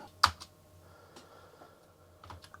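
A few scattered key clicks on a Commodore Plus/4 keyboard, one sharp tap near the start and a small cluster near the end, over a faint steady hum.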